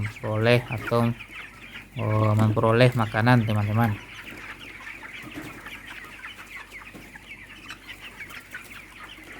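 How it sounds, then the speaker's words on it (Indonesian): Broiler chickens cluck and murmur in a coop, soft scattered calls under someone speaking at first, then continuing alone as a low, busy background of the flock. "Sebenarnya kita lakukan perbedaan atau pemisahan ayam besar dengan ayam kecil ini"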